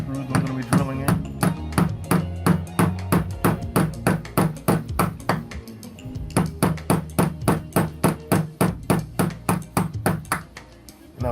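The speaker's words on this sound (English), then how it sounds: "use this hammer just to make some points for the screws I'm going to be drilling in" A hammer taps sharply and rapidly in a steady rhythm, marking screw points while installing a kick-down door stop, dozens of close, ringing strikes with one brief pause partway through.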